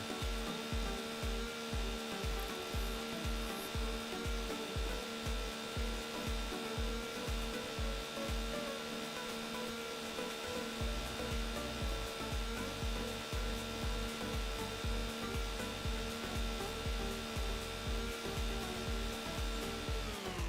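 A chainsaw cuts wood in the Farming Simulator video game, giving a continuous droning whine. Steady rhythmic low thumps run under it throughout, with no talk.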